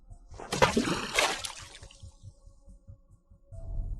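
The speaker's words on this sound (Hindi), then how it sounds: "उसे पानी में कुछ गिरने की आवाज सुनाई दी।" Something drops into water with a burst of splashing, then a second splash, followed by faint dripping and trickling with quiet pauses and a low rumble at the end.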